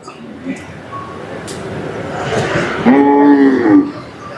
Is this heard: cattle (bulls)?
yes